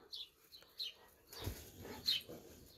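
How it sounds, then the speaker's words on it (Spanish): Birds chirp and squabble outdoors in a quiet rural spot, with several short, faint calls scattered in bursts and a soft rustle partway through. "Están ahí los pájaros revolucionados discutiendo"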